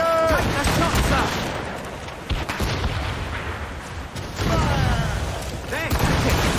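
Ship cannons fire in the Assassin's Creed Rogue video game, a loud booming barrage with rolling blasts and crackling debris, while shouting voices cut in during the battle.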